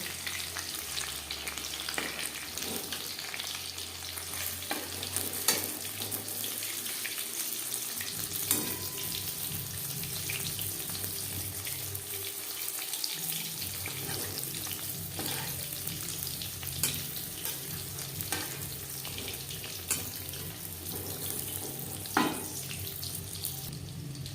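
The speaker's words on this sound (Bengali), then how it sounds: "তেল গরম করে নিয়েছি চিকেন ভাজবো মিডিয়াম ফ্লেমে" Chicken pieces frying in hot oil over a medium flame for a crispy chicken fry, giving a steady, close, continuous sizzle with bubbling crackle that runs the whole time without speech.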